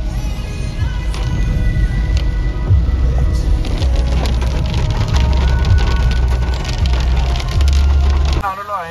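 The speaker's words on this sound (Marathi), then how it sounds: "इतका जोरदार पाऊस आहे की काही दिसायलाच मार्ग नाही" Heavy rain drumming steadily on a moving car on Trimbak Road, dense hiss and patter with low road rumble throughout, music faintly underneath, fading abruptly near the end.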